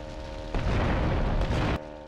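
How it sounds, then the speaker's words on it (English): A big explosion in the video game GTA Vice City Stories bursts out as a loud, broad roaring blast that holds for about a second before cutting off sharply, over a low rumbling game background. "Oh my god, I'm causing like a giant explosion."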